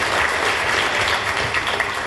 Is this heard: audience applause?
yes